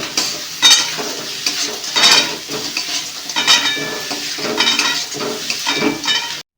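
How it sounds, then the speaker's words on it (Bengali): Crab pieces and fried potatoes are stirred and fried with spices in a pan: loud close sizzling with repeated scrapes and clinks of a spatula against the metal. "কাঁকড়া এবং আলুগুলোকে মশলার সাথে ভালো করে কষাতে হবে"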